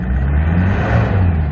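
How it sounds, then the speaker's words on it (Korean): A 2005 Kia Bongo3 minibus engine revs loudly and steadily while cold, a dense, continuous low drone held near and unbroken. "2000rpm까지는 조금 천천히 올라갔다가 고rpm에서 갑자기 쭉 올라가는 그런 모습 보이고"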